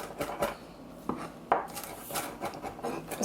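Oyster mushrooms chopped with a knife on a board for vegan imitation crab cakes, a run of quick, fairly close clicking and tapping strokes in irregular rhythm with no talking.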